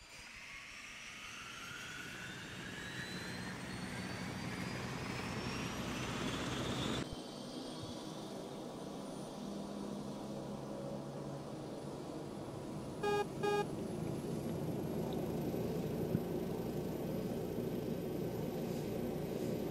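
Aircraft engine drones steadily through a flight in PUBG, a broad continuous roar with rising whine that shifts abruptly partway through, joined by a brief electronic beeping near the end; no talking.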